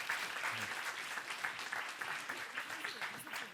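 Audience applause for panelists joining a stage at an education event, steady dense clapping from a moderately distant crowd lasting the whole span.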